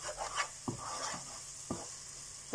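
Spices and chili frying in oil in a pan, with a soft continuous sizzle and a few distinct knocks and scrapes of a stirring utensil, fairly close and without talk.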